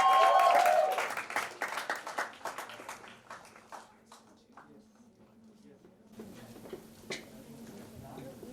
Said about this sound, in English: Guys, big round of applause.